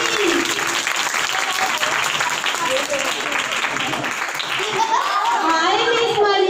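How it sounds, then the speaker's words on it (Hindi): Steady audience applause with children's voices mixed in at a Christmas puppet show, a dense continuous patter of clapping throughout, with some shouting toward the end. "जोरदार तालियां प्लीज"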